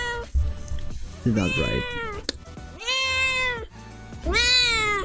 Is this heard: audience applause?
no